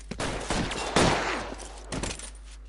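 Gunfire in a 1940s Los Angeles police shootout in L.A. Noire, several sharp shots and bursts clustered over a few seconds, loud and close, with a brief tail of reverberation between volleys.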